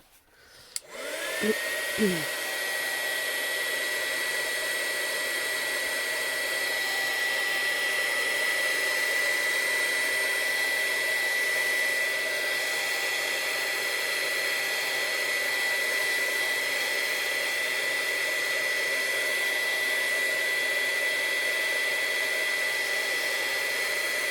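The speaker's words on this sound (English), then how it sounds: "I think I will do one last blast of the dryer." A hair dryer starts with a click and blows steadily with a loud, constant whirring hiss that runs without pause to the end.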